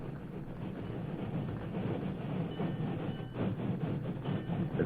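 A train rolls toward a spot along the railroad track, a steady broad rumble with faint rhythmic rail clatter building slightly louder toward the end.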